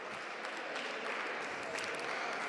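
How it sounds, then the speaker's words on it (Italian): Fans of a women's basketball team clap as their home players return to the court, a dense, distant wash of applause echoing in a gym with faint voices mixed in. "Applausi del pubblico del Pallaparonetto per il ritorno in campo delle proprie ragazze"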